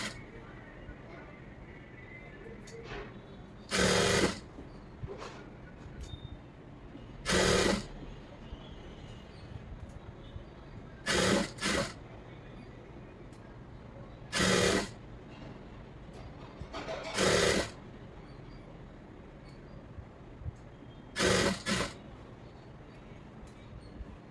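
A sewing machine stitches a blouse lining in six short, loud bursts spaced a few seconds apart, each run lasting under a second over a low, steady background hum.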